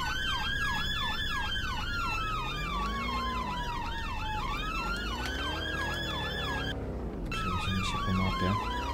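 Several police sirens wail in the Roblox video game, layered rising-and-falling electronic tones cycling steadily and loudly, with a short dropout near the end before resuming over a low vehicle rumble.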